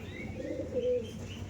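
Andhra Madrasi pigeons give soft, low cooing notes, one swelling call rising near the middle of a short, quiet stretch without talk.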